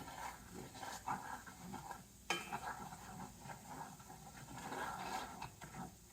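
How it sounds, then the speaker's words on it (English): Flour being stirred into hot oil in a pan for tomato gravy, a soft scraping stir with faint sizzling, close and quiet, repeating in uneven strokes. "Stir that in that oil"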